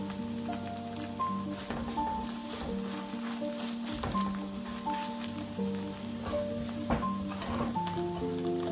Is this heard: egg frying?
yes